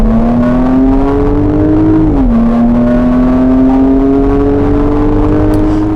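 A 2022 Porsche Cayenne Coupe with the quad sport exhaust revs steadily with no talk, its loud, continuous engine note climbing, briefly dipping around a shift, then rising again.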